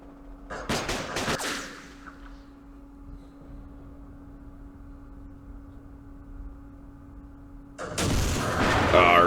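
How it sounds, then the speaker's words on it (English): Machine gun fire in the Vietnam war game Campaign Series Vietnam: a quick volley of sharp loud bursts at the start, then a quiet low hum, and a dense roar of gunfire returning at the end. "The machine gun came."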